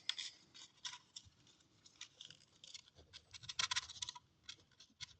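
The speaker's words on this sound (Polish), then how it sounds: "Idę papier wezmę ścierny i troszkę przetrzemy." Sandpaper rubs an electrical contact on a Peugeot J5 camper, a quiet, close, irregular scratching in short bursts and strokes with no talk.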